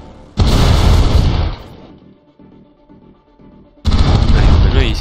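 Gunfire and explosions in the video game Broforce: a loud blast of rapid shooting and booms lasts about a second, drops to quieter rumbling, then a second loud burst comes in.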